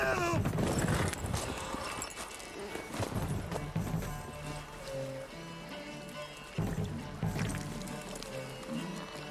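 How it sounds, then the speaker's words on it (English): Horse hooves in The Witcher 3: Wild Hunt clip-clop in a quick galloping rhythm, loud and close, with voices speaking over parts of it. "The horse."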